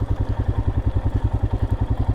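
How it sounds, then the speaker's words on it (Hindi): A motorcycle engine idles close by in rural Ladakh, its low rhythmic thumping pulses evenly over about two seconds with no talking. "So let's park a motorcycle somewhere."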